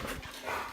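Dogs wrestling and playing, with brief muffled growly scuffles and thumps over a soft indoor background, close but fairly quiet.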